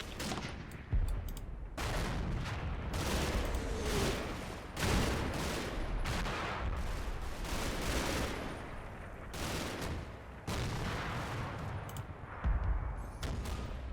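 Bursts of Sten submachine gun fire in Combat Mission, a World War II hedgerow battle, come in repeated volleys amid distant crackling gunfire and booms.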